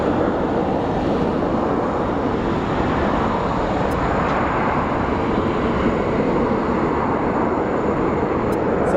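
Airliner on the Sioux Falls flight at Phoenix Sky Harbor, a loud, steady broadband jet roar filling the whole span without change, no voices.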